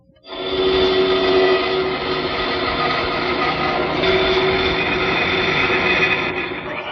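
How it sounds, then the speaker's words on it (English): Bandsaw cross-cutting a wooden blank, a loud steady whine with a strong tonal hum running almost seven seconds after a quick start, close and unbroken, with no talk. "I'll make the cross cuts on the bandsaw."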